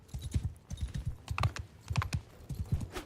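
Horse hooves clip-clop in a steady, fairly close rhythm of repeated soft thuds in the Bannerlord video game, continuing alone without talk for about three seconds.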